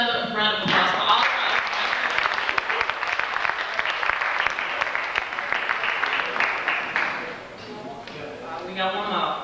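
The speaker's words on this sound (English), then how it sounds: "Let's give another round of applause for all." A room of listeners at a poetry night claps steadily for several seconds, a thick sustained round of applause that tapers near the end as voices begin to speak.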